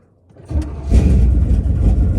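A 1984 Chevrolet C30 crew cab truck engine cranks briefly and fires up, settling into a loud, steady, close-up rumble with no talking.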